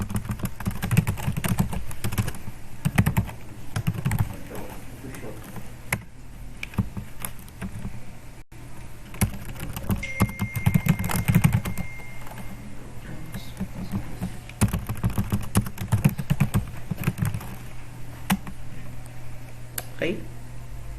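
Computer keyboard keys tapped in short irregular bursts while a Tab key is pressed in Turbo C, with someone speaking steadily over the clicking and a low hum underneath.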